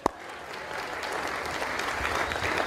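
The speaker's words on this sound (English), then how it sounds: "We don't have to clap after each." Audience applause in a hall at a school president's reception, clapping for the cross country team after its fourth straight championship season, a steady dense burst of many hands that begins with a sharp clap.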